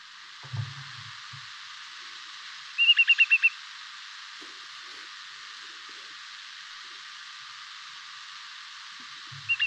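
A migrating whimbrel gives a single rapid run of about six whistled notes, brief and fairly distant, over a constant hiss. A faint start of another call comes right at the end.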